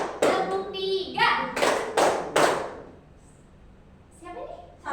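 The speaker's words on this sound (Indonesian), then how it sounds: "Tepuk 1, tepuk 2, tepuk 3." A classroom group claps together in a counting game, one clap, then two, then three in quick unison bursts, with a teacher's and children's voices between the claps.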